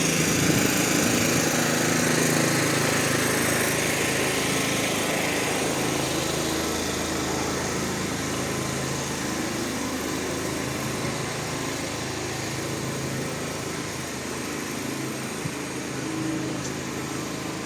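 Electric generators running outdoors on a city street in Lviv, a steady loud engine drone with a buzzing high-pitched edge that continues without a break the whole time.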